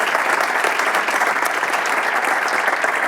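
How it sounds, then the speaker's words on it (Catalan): Steady applause from a gala audience for the Sa Bodega group, dense and even, holding at a constant level throughout with no voices. "un fort aplaudiment, per favor, per ells i elles"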